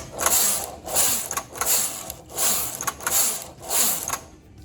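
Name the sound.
knitting machine carriage knitting a row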